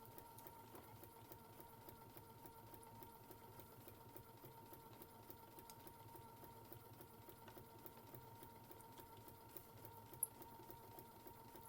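A sewing machine stitching fabric with a steady, faint mechanical hum and fine rapid patter, running without pause and without talk.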